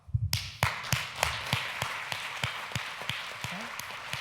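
An audience applauds in a talk hall, a sparse, rhythmic run of individual claps rising into a light burst of clapping, fairly close, with no talking over it.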